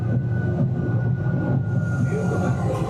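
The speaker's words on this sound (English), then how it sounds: "This train could only go 9 miles an hour." The Universal Studios Hollywood studio tour tram rolls along at low speed, giving a continuous close rumble with a steady tonal hum riding over it throughout.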